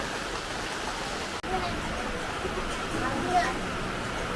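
Steady rain falls throughout, a dense wash of broadband hiss with a brief dropout partway through.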